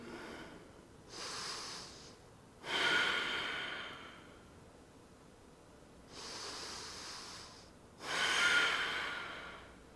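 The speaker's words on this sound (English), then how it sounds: "and breathe" Deep breaths during a yoga flow: four slow, soft, airy breaths rise and fall at an even, unhurried pace, each a few seconds long with quiet pauses between, close and fairly faint.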